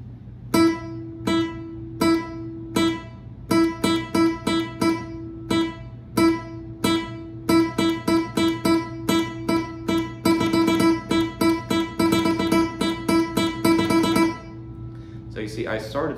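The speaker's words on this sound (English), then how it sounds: "I started slowly, and then I threw in a four-note burst within the picado" Flamenco guitar picado exercise on an open string, slow evenly spaced single plucks giving way to quick bursts of rapid notes, close and clear with no talking.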